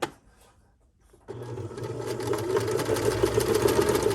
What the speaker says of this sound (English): I'm going to end up sewing right on top of those anchor stitches